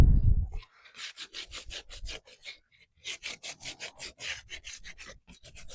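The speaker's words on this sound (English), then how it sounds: "Sand that a little bit too." Hand sanding of a painted thrift store furniture piece gives a rhythmic series of rasping strokes, close and fairly loud, about a dozen back-and-forth rubs in quick succession with a short pause midway.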